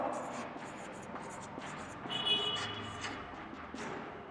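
A pen scratches across paper in short repeated strokes, writing large numbers and letters close up, with quiet background hiss.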